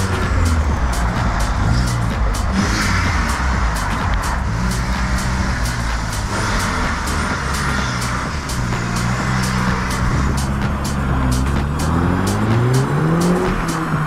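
A stripped-out Audi TT Mk1 track car runs loud and close for the whole stretch, its engine note rising and falling through the revs with sweeping pitch changes and no talk.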